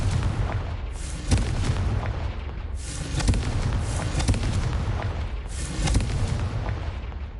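Confringo blasting spells in the Hogwarts Mystery video game, a continuous loud rumbling barrage of booming explosions with repeated heavier blasts surging every couple of seconds.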